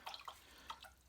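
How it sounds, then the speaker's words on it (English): A paintbrush swished and rinsed in a container of water, giving a few soft close splashes and drips in quick succession, quiet and without talk. "I'm really rinsing my brush"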